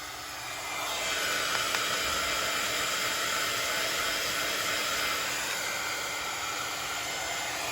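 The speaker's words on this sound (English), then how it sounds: "I'm gonna go ahead and heat this up by turning it on" A heat embossing tool switches on and roars with a steady, loud hair-dryer-like blowing hiss that holds constant after a brief rise.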